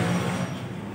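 A Mitsubishi Lancer boxtype engine runs while cleaner is sprayed into it, a steady low engine hum with a faint hissing layer, loud and close, continuous for a brief moment without speech.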